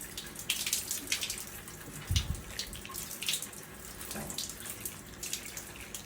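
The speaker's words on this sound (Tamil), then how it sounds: "ஸ்லோவாக ஃப்ளோயிங் வாட்டர்லாம் நல்லா இது பண்ணிடுங்க" Slowly flowing tap water rinsing fish food, a soft, steady trickle and splash into a sink, quiet and close with no talk.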